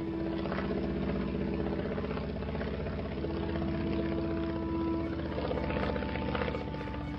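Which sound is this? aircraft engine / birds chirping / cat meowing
aircraft engine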